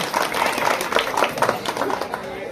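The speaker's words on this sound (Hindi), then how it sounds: "एक बार जोरदार तालियों से स्वागत किया जाए।" Applause from an audience at a community event in Kirari, Delhi, welcoming a guest: steady, dense clapping that fills the whole clip at moderate loudness, with a crowd murmur mixed in.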